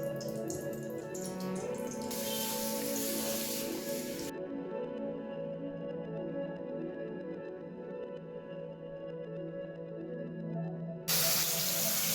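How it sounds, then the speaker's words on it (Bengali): Butter dropped into hot refined oil in a pan for butter chicken gives a steady hissing sizzle, loud and continuous, with the bright crackle rising and easing over several seconds, with no voices. "আমি এই বাটারটা দিয়ে দিচ্ছি।"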